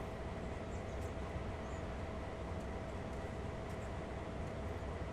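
A Union Pacific locomotive in Train Sim World 2020 runs with a steady, continuous low rumble and rail noise that holds at an even loudness throughout, with no talk over it.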